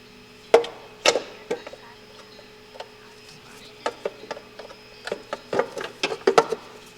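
A valve cover is set back onto a Mazda Miata 1.6 or 1.8 engine and lined up under the coil packs, giving a series of sharp plastic and metal knocks and clunks, some close and loud, scattered irregularly with quieter taps between.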